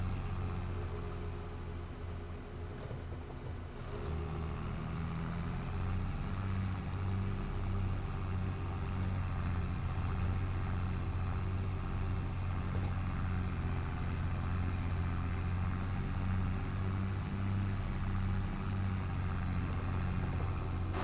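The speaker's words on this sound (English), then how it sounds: "This tractor has no problem getting through the trees down here." A tractor engine drones steadily and evenly for the whole stretch as it drives through trees on a farm, a constant low mechanical hum at moderate level with no talk.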